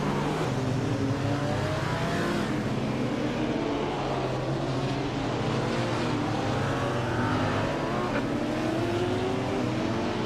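Racing video game engine of a 1959 Maserati Tipo 61 Birdcage race car, a loud, continuous droning roar with shifting pitch that runs unbroken throughout, with no talk.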